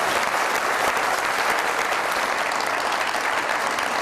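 A studio audience on a TV comedy show welcomes a singer guest with a continuous, even burst of loud applause from many people, with no talking over it.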